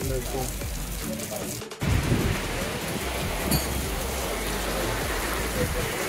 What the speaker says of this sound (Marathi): इथे भरपूर पाऊस लागला आहे